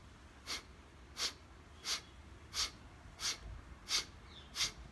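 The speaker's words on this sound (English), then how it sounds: "The first is called the bellows breathing cycle. You sit erect like this and breathe out and take your stomach inside." Bellows breathing exercise: seven forceful, evenly spaced exhales snorted through the nose, sharp and close, each a short hissing burst in an otherwise quiet room.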